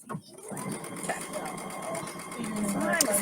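A sewing machine backstitches while a fabric birthday crown trimmed with a little daisy is made, giving a close, quick mechanical whir under a person's voice.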